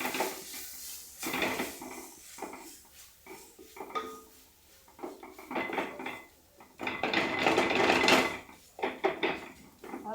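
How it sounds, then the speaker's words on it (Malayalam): Jackfruit thoran is stirred in a pan, with repeated metal-on-pan scrapes and clinks in uneven bursts. A louder, busier run of stirring comes toward the end. No one speaks. "നന്നായിട്ട് ഇളക്കി കൊടുക്കട്ടെ"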